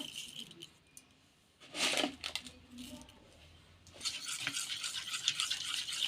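A spoon stirs sugar into about 500 grams of yogurt in a bowl, with scraping and soft clinks in short bursts, then steadier stirring, close and moderately loud, with faint talk in the background.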